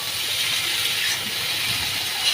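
Leafy greens frying in a pan with onion and garlic, giving a steady, fairly loud hiss and sizzle that runs unbroken from start to finish with no voices.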